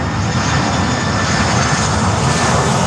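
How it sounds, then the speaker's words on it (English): Four-engine DC-8 jet coming in to land at Miami airport, a loud, steady roaring rumble with a whining edge, filling the air without a break and with no voices. "DC-8 incoming."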